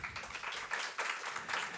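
Audience at a women-in-STEM session applauding together, a dense, steady wash of clapping that holds evenly throughout with no one speaking over it.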